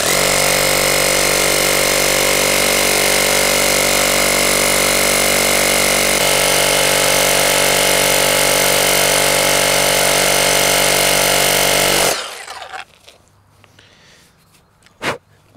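A Bosch GBH 18V-34 CF cordless rotary hammer chisels stone in one loud, continuous hammering burst that runs about twelve seconds and then stops abruptly, leaving quiet room noise and a single faint knock.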